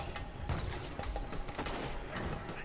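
The Thesan FR4 fusion rifle fires in the Destiny video game, a quick succession of sharp, charged bursts with mechanical clicks, loud and close, no speech.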